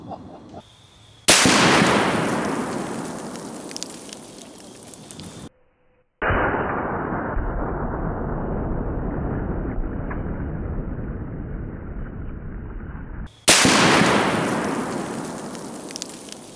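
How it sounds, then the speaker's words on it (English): A Serbu RN50 .50 BMG rifle fires armor-piercing incendiary tracer rounds at a 380-pound Atlas stone outdoors, heavy booming blasts with long rolling tails, separated by abrupt cuts to silence. "Let's hit this 380-pound Atlas stone with a 50 BMG. We have a Serbu RN50"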